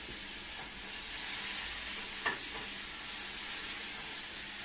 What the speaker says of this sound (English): So now I throw my onion in there.